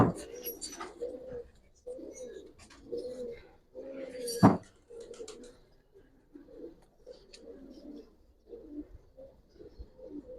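Giribaz pigeons of the palla line coo in a run of soft, low, throaty phrases, close by and fairly steady, with one sharp clatter near the middle and quiet background noise between calls.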